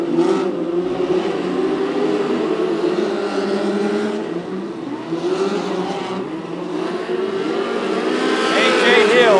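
Sprint cars race around the Macon Speedway dirt track, engines roaring steadily and rising in pitch as they pass, with a track announcer talking over the constant din.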